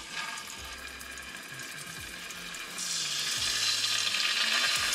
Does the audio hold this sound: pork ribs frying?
yes